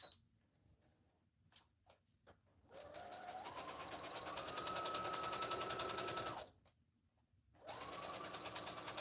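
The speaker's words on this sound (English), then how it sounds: "Let me do the straight stitch right quick." Sewing machine running a straight stitch, in two sustained bursts of rapid needle clatter separated by a short pause, preceded by a few brief taps; close and clear with no talk.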